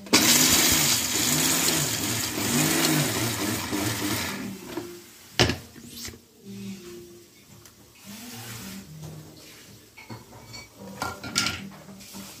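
A kitchen mixer grinder whirs and rattles loudly as it grinds groundnuts with salt for groundnut rice, running in pulses before stopping, followed by clinking jar and lid sounds.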